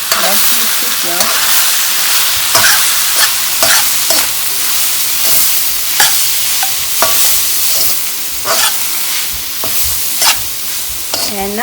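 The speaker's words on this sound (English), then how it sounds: "So I have added rice and some scallions. Let's mix it well." Rice and scallions get stirred in a hot pot while cooking pineapple fried rice, with continuous loud sizzling broken by repeated scraping strokes of a utensil across the pan.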